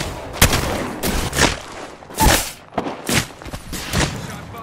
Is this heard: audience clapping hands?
no